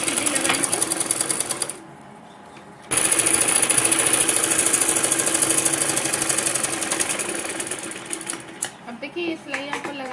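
A sewing machine stitches Patiala salwar fabric in fast, rhythmic bursts, pausing briefly and then running again. Someone talks over it in Hindi.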